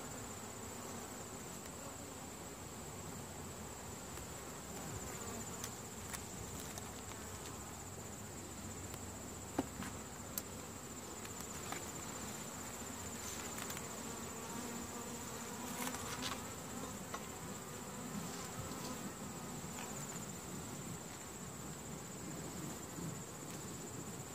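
Dense, continuous buzzing of many bees at a hive, steady and close, with a constant hum and no speech.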